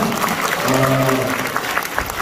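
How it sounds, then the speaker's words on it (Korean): Audience applause for Park Jie-won at a Busan Democratic Party talk concert: a dense, steady wash of clapping from a crowd, lasting a couple of seconds with a faint tonal voice or hum beneath it. "박지원한테 박수 친 사람은요"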